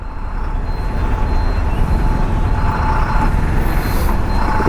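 Heavy road traffic with buses and trucks near Gachibowli and Hitech City, a loud, steady, close rumble of engines that never lets up, with a faint tonal hum running underneath.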